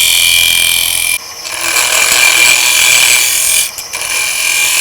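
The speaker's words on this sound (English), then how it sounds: "take just a skimming cut to smooth out the surface, smooth out the gouge ripples, refine the shape" A gouge takes a skimming cut on a lathe-turned maple burl bowl, a continuous loud scraping hiss over the hum of the spinning lathe, with brief dips where the tool lifts.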